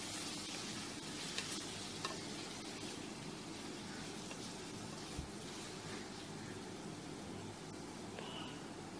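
Ginger, garlic and onion sauté in oil with a soft, continuous sizzle, fairly quiet and even, broken only by a few faint taps of a utensil.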